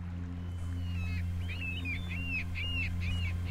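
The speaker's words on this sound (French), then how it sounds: "Seules les résonances des flots et les cris des huîtriers et goélands rythment ces ambiances magiques" Oystercatchers and gulls call over the tidal flats of the Baie de Somme in winter, a run of sharp, repeated piping cries rising after the first second above a steady low hum.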